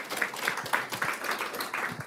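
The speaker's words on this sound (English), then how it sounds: "I'd like to invite a round of applause for the team that put this together." An audience at a training session gives a short round of applause, with dense, steady clapping from a modest crowd heard at moderate distance throughout.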